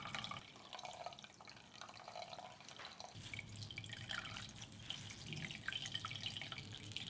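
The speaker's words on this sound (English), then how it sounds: "squeeze out excess water" Water trickles and drips steadily into a basin close by as excess water is squeezed from glutinous rice dough, a continuous splashing patter with no voices.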